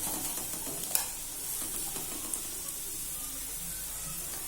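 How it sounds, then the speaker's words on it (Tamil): Vegetables for a cutlet sautéing in a pan, a soft steady sizzle with a few light stirring scrapes, close and fairly quiet. "எல்லாம் காய்கறி நல்லா வதங்கிடுச்சு."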